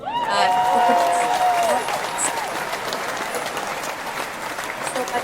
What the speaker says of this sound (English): So a little applause there